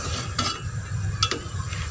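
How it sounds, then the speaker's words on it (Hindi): Eggplant and potatoes fry in a pan for a home curry, with a steady close sizzle broken by a few sharp scraping stirs of a utensil against the pan. "बैंगन को मैंने थोड़ा सा भून लिया है।"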